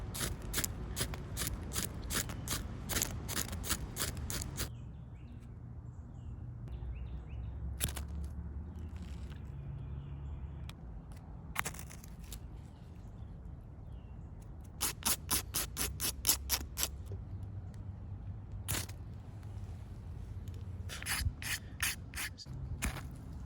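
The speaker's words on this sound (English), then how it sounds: "scrape off if there's any of that protective coating, get rid of it, and then you're just making sparks" A ferro rod scraped hard in repeated bursts, each stroke a bright, gritty rasp; several fast clusters of strikes with pauses between them, close and fairly loud over a low steady background rumble.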